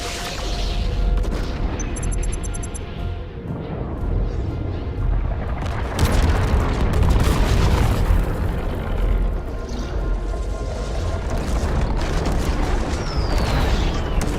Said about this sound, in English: These rockets created rifts all across the sky